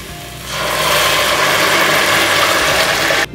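A curd upma mixture is stirred in a pan over a simmering flame, producing a continuous rough scraping rasp that starts abruptly and stays loud and even until it cuts off at the end, with no talking.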